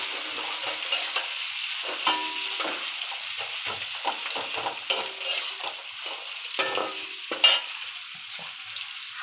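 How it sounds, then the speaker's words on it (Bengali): Capsicum and sausages are stir-fried together in a hot pan, with a continuous sizzle under frequent scraping and tossing strokes of a utensil, close and fairly loud with no talking. "ক্যাপসিকামগুলো দিয়ে দিলাম, সব একসাথে ভাজা করব।"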